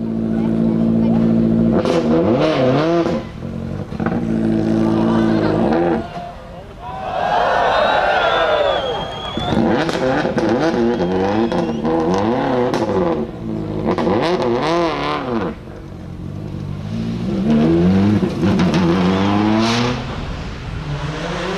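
Ford Escort rally cars at a 2001 rally event, engines revving hard with gear changes as a driver fumbles the gears after overshooting a hairpin, loud and continuous with commentary talking over the engine noise throughout.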